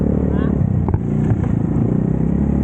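A Mio Sporty motorcycle idles nearby with a steady low rumble, overlaid by a person talking and a few light clattering knocks.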